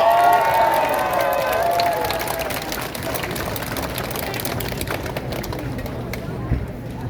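An outdoor campaign rally crowd in Gunpo, Gyeonggi, claps and cheers for a party candidate. Diffuse applause runs continuously, loudest at first and gradually thinning, with a voice speaking briefly over it at the start.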